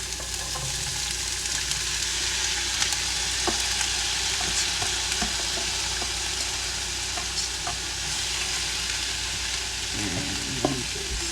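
Onions fry in a little oil in a hot pan on medium-high heat, giving a steady close sizzle with occasional stirring scrapes and clicks, no talking.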